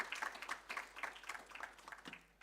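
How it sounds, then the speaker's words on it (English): A small seminar-hall audience claps for a port authority chairman, faint and sparse, with distinct individual claps in an uneven rhythm. "A round of applause for him."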